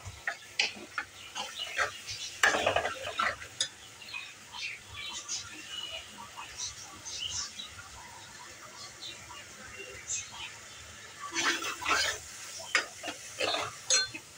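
Onion and garlic paste sautés in a pan with a soft, uneven sizzle, broken by a few louder bursts of stirring and scraping, all fairly faint and close.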